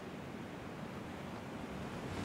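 A boat moves on the water in PUBG with a steady rushing wash of water and wind noise. The level is moderate, grows slightly toward the end and has no clear speech over it.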